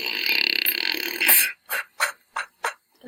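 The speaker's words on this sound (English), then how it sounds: "That sounded like a fart." A burp that comes out sounding like a fart, part of a run of short, loud bursts: one longer rasping sound followed by five quick, evenly spaced puffs, close and alone with no talk.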